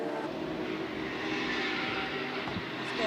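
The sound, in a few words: race car with Corvette V8 engine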